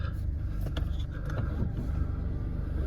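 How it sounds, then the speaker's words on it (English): Mercedes-Benz C220d diesel engine in a C-Class AMG Line saloon with G-Tronic+ automatic gearbox, running with a low steady rumble and a few small clicks, close and fairly loud with no talk. "Just turn the car on."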